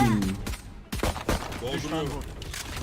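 Gunfire crackles in short loud bursts during a first-person shooter match, several sharp shots following one another, with excited talking over them.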